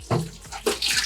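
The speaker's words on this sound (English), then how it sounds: "You just want to keep on filling it with clean, fresh water and dumping it out" Clean fresh water pours into a slop sink being rinsed of degreaser, a steady splashing rush with surges and bubbling, close and fairly loud, with no talk.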